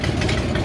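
Five motorcycles idle together outside a custom shop, a dense, steady low engine rumble with a continuous throbbing drone and no pauses, close and loud.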